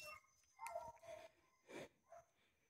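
Faint, distant barking from a pack of hunting dogs on a wild boar hunt, a few scattered barks rising over a quiet background.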